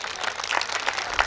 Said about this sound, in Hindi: एक बार पीछे तक दोनों हाथ उठा करके तालियां बजाइए